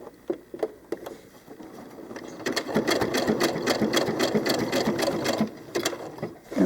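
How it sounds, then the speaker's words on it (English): A sewing machine stitches fabric for doll clothes, starting with a few soft clicks, then running in a steady, close mechanical chatter of rapid needle strokes for several seconds before slowing and stopping. "I'm going to go ahead and anchor my stitching at the front"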